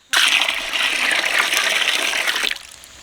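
Water gushes into a pot over soaked pigeon peas for Hyderabadi khatti dal, a loud steady pour that starts abruptly and cuts off after about two and a half seconds.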